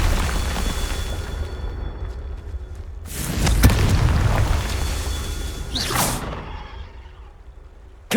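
A Confringo blasting spell in Hogwarts Legacy bursts with a loud, close explosion and a rumbling tail, followed a couple of seconds later by a second sharp whooshing blast amid ongoing combat noise.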